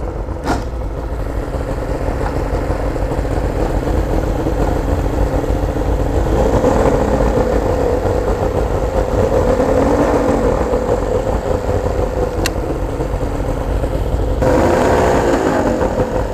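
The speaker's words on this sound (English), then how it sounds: "It seems like it's revving reasonably as far as the tachometer goes" A Basscat bass boat engine runs loud and steady for the whole stretch, its rumbling drone holding high as it revs.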